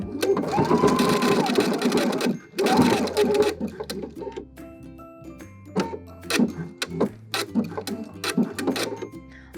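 A sewing machine zigzag-stitches trim onto fabric, running in fast rhythmic bursts with short pauses, then slower stop-start clatter and ticking as the stitching continues close by.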